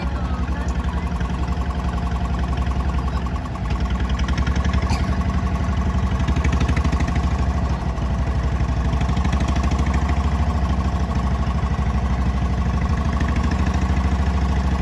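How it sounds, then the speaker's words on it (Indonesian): A ketek wooden boat engine on the Musi River in Palembang drones steadily and continuously, a loud, even low hum with no pauses and no voices. "mesin ketek menderu pelan"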